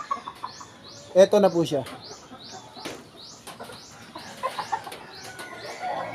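A Spartan black gamefowl rooster gives soft clucks and low calls at close range, faint and intermittent, while a person talks and small birds chirp repeatedly in the background.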